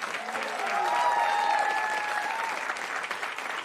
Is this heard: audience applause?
yes